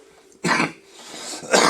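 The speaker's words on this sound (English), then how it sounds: "Excuse my cough." Two short, sharp coughs from a person nearby, the first loud and the second following about a second later, with quiet room tone between them during a model railroad track-laying session.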